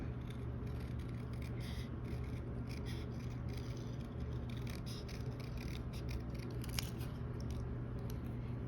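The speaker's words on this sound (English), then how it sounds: "how I find it's easiest to fussy cut" Scissors snip around a paper animal cutout for a handmade holiday greeting card, a quiet run of small close crisp cuts in irregular rhythm over low background hum.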